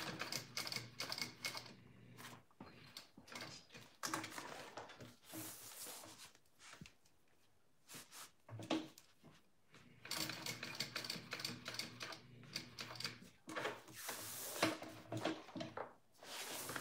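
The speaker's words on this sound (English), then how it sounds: "I'm just sewing rectangle first on my connector" A sewing machine stitches a rectangle on a bag connector, running in quiet rapid bursts separated by short pauses as the fabric is turned.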